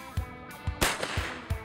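Sharp metallic clacks of a Browning A5 shotgun's bolt being cycled, several quick close snaps within under two seconds, one louder than the rest.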